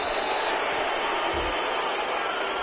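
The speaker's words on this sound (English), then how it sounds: "this crowd does not like that call" Simulated stadium crowd in the Madden 22 football video game reacts to a penalty call with a sustained, moderately loud wash of crowd noise and murmuring, with no distinct cheer peaks.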